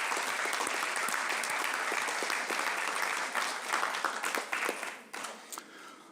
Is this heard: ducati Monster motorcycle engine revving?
no